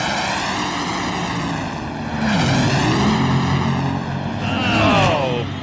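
A Top Fuel dragster at the 1995 NHRA Winston Select Finals makes a loud, sustained engine roar that swells and shifts in pitch as it races down the drag strip, with a crowd and commentary noise mixed underneath.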